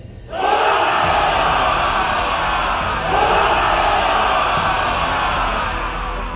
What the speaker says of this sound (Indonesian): sorakan yang membahana memenuhi sekitar